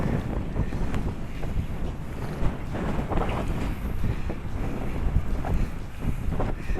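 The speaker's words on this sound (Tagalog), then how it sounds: "Malakas yung hangin." Strong wind buffets the microphone on a long bridge in Abra, in a steady, heavy roar that lasts throughout, with no voices.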